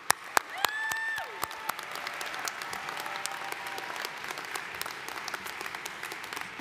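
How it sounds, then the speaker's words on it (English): A commencement audience applauds the graduating seniors of the Environmental Studies Department, soft, distant clapping in a large hall, with a few sharper claps near the start and a brief tonal sweep early on. "Let us applaud the accomplishments of the graduating seniors of the Environmental Studies Department."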